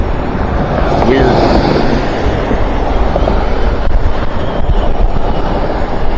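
Wind roars steadily across the microphone while riding an e-bike outdoors, a loud, continuous low rumble and buffeting throughout, with no clear speech.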